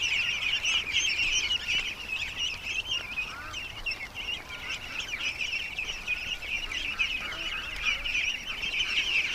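A small flock of ducks quacks and chatters nearly nonstop while being herded out of an area, a dense, busy layer of overlapping calls close by with no talking.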